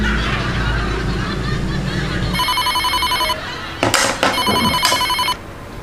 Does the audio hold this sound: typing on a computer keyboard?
no